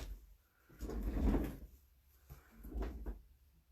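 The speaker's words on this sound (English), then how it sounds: "Shut my door." A door swings and bumps shut twice in quick succession, a soft wooden thud each time with a faint rattle, close by in a quiet room.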